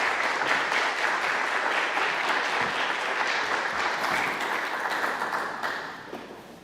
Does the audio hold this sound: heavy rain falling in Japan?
no